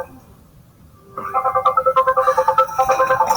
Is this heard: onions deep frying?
no